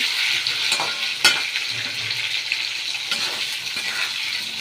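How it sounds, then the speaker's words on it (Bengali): Potatoes sizzle in a pan with steady crackling, punctuated by a few sharp clinks and scrapes of stirring; no voices. "চলুন আলুটা ভাজা করা যাক"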